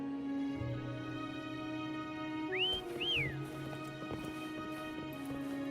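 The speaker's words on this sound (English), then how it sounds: "Try whistling. Like this." In the video game Wuthering Waves, a character gives two short rising whistles to call a mount, heard over steady game ambience with soft hoof-like clops and background music tones.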